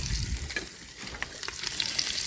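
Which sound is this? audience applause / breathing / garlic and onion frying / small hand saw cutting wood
garlic and onion frying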